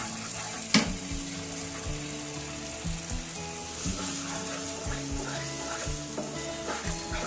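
Spiced masala for paneer butter masala sizzles steadily as it fries, a close, continuous crackle with soft stirring scrapes and one sharp utensil knock near the start.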